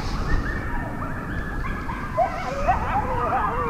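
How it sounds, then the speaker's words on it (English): A pack of dogs barks, yips and whines far off across a frozen lake in Michigan's Upper Peninsula, faint scattered calls above steady wind noise. "Big old pack of dogs over there."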